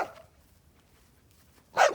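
A dog gives a single loud, close bark near a Jersey heifer on a family milk-cow farm, following a short faint yelp and quiet background.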